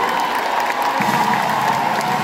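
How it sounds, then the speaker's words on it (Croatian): A concert crowd in Osijek at a live show claps in dense, continuous applause, a loud, close wash of hands with a faint murmur of voices mixed in. "Velike aplauze dakle, za Maja."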